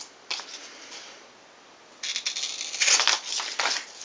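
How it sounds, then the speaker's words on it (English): Scissors snipping strips of tape into 3/4 inch pieces for a Thunder Bird model wing build; a few faint crisp cuts followed by a denser run of snipping and crinkling, close up with no talking. "I'm going to cut some 3/4 inch pieces, and I'm just going to use the marks that are on the tape itself."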